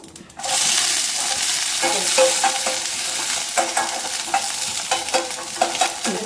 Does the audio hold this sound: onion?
yes